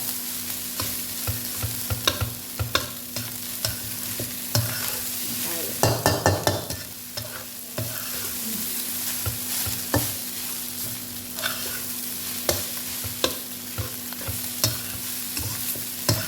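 Leftover day-old rice is stir-fried in a pan with curry paste, a steady sizzle under repeated rhythmic spatula scrapes and knocks against the metal, close and busy throughout, with a denser burst of clattering midway.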